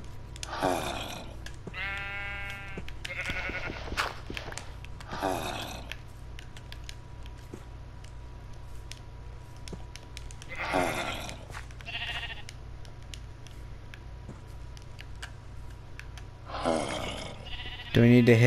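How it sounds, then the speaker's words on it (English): Sheep bleat in the Minecraft video game on PS4, several short bleats spaced across the stretch, moderately loud, with a player's voice talking at points alongside them. "I got sheep."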